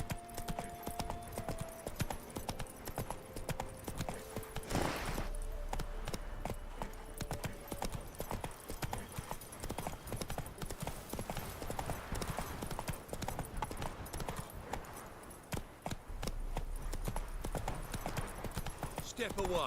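Hooves of Roach, a horse in The Witcher 3, clip-clop steadily at a run beneath game music and background effects, with a voice heard briefly.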